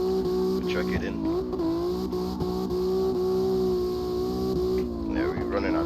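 Drift car with an MT82 transmission and 4.10 gearing, its engine droning loud and steady near the top of the gear as it runs out of wheel speed, pitch wavering with brief dips.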